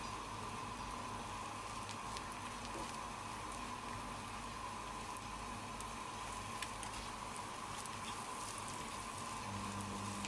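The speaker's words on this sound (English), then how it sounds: "keep scrambling the eggs until they're starting to set a little more" Scrambled eggs sizzling in a hot pan with salt and pepper, a steady, dense crackle and hiss that runs without pause at a constant level throughout.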